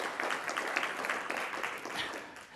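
Audience applause at a morning conference session on fuels for future automobiles, a steady wash of hand claps from a seated crowd, moderately quiet and distant, lasting a few seconds without interruption.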